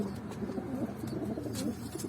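Soft, low pigeon cooing repeats in a gentle rolling rhythm, fairly close, with faint rustling in a quiet background.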